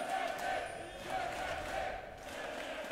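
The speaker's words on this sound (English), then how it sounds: "Calls for Fnatic coming in strong from the crowd." Arena crowd at a 2016 EU LCS summer esports match between Vitality and Fnatic, with fans chanting in a sustained rhythmic roar that swells and dips over three seconds, steady and moderately loud.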